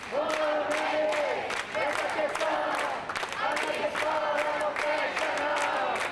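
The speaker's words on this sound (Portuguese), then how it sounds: "as vaias e os protestos tornaram difíceis a explanação" Students and educators in a legislative gallery booing and protesting, a loud crowd with repeated chanted shouts in waves, sustained voices and some clapping, with brief dips between bursts.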